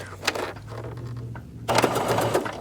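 A sewing machine starts a quarter-inch seam on a zipper project with a back stitch, its motor humming briefly, pausing, then running steadily again up close with no talking.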